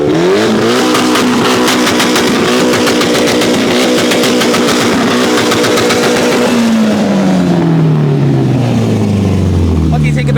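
Mitsubishi Evo 10 engine revving hard at a car meet, a loud, close, buzzing roar with rapid pulsing, then winding down as the car pulls away and fades into the distance.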